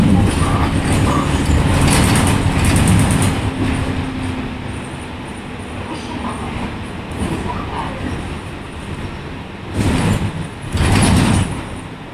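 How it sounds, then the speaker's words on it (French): Steady engine rumble and road noise from inside a moving bus, with rattling and a few louder surges of noise. "parce que là je suis dans le bus"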